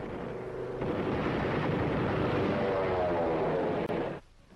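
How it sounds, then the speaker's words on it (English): A loud, close roar of low-flying propeller aircraft over the early Korean War front, sustained and heavy for several seconds before cutting off abruptly. "Those guys flew so low, they should have had bayonets on their propellers."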